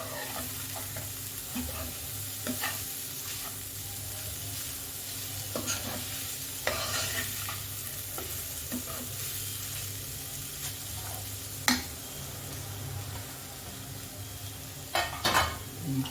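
A spoon stirs paneer filling in a pan at home for paneer paratha, giving a continuous scraping stir over a faint sizzle, with occasional sharper clinks of metal against the pan and no voices.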